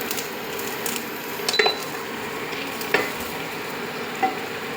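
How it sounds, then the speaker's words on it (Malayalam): A spoon scrapes and clinks as rice and salt are stirred in a cooking pot, with a few distinct knocks against the pot over a steady sizzling hiss. "ഇനി അത് ഒന്ന് ഇളക്കിയേക്കാം."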